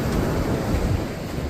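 Surf rolls and washes steadily onto a flat Florida beach with wind buffeting the microphone, a constant close roar with no clear footsteps standing out.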